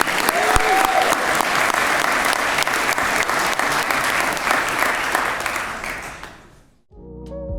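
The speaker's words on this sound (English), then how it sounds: "please give him another round of applause to Harry" Audience applause at an entrepreneur awards ceremony, a loud, dense and sustained round of clapping that fades out near the end before music begins.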